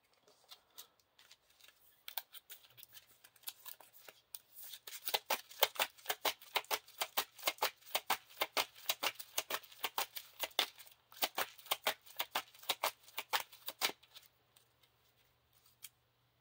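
A deck of cards for the Lord of the Rings card game shuffled by hand on a table, a long close run of quick, crisp riffling snaps in steady bursts, with no talking.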